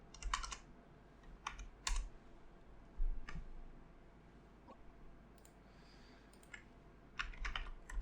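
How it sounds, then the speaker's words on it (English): Keystrokes on a computer keyboard come in short separate bursts with pauses between them, close by and fairly quiet, with no voices. "Let me type in"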